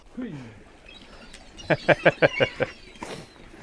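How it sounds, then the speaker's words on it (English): Norwegian seagulls call near a fishing boat, a quick series of about six sharp, rhythmic cries following a single downward squawk, fairly close and clear over faint background noise. "I think they are very spoiled, these Norwegian seagulls."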